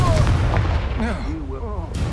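A Confringo spell blast in the video game Hogwarts Legacy lands as a loud, booming burst with a low rumble that lingers, and a voice speaks over its tail.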